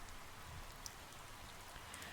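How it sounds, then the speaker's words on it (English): Steady rain falls in a continuous soft hiss of drops, even and unbroken, with occasional brighter droplet ticks and no voices. "The rain fell in steady sheets"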